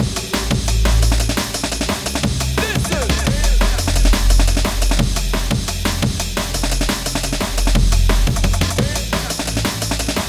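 A Reece bass synth line for drum and bass, dense and growling, driving steadily under busy drums and a full mix, loud and unbroken with no voices.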